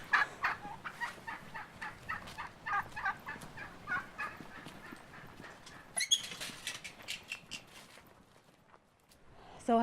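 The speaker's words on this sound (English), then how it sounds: "which is being very well protected by turkeys" Turkeys gobble repeatedly at a poor rural homestead in the Caucasus, a rapid rattling series of calls close by, then a second burst of higher, sharper gobbles, over quiet outdoor ambience.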